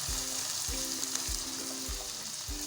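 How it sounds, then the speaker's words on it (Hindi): Onion, ginger and garlic fry in a pan for a beef handi, a steady bright sizzle with low rhythmic thuds recurring about every 0.6 seconds, no voices. "और प्याज को और अदरक लहसुन को हम 1 से 2 मिनट तक भूनेंगे।"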